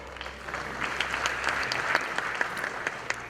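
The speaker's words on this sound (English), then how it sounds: "A big round of applause for him" A crowd at a real estate awards ceremony in Mumbai applauds, continuous clapping at moderate level with occasional sharper individual claps, slightly distant and without talk.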